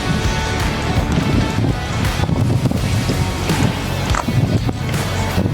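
Strong wind roars and buffets the microphone continuously outdoors beside a 2025 Benelli 502C motorcycle, a loud, rough broadband rumble with no talk.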